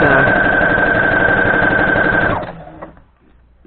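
Sewing machine stitching quilt fabric strips together along a seam line: a loud, close, steady motor whir with rapid needle chatter for over two seconds, then it stops, leaving only faint handling noise.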